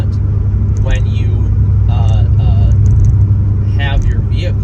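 Loud, steady low engine rumble and road noise inside a Chevrolet C6 Corvette driving on wet roads in rain, continuous throughout beneath someone talking.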